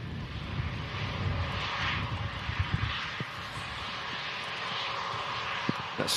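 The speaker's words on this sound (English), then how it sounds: "Very, very pretty Embraer." Embraer E195 jet at Manchester Airport giving a low, steady engine rumble with faint hiss, set in broad outdoor noise with a few soft knocks. The jet sounds distant and moderately quiet.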